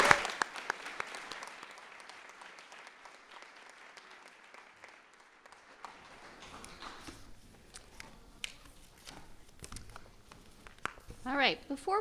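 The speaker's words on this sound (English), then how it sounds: "Let's give these students one more round of applause." Audience applause for students at a research and development forum awards ceremony, a moderate wave of clapping that thins out, followed by scattered shuffling, footsteps and people talking.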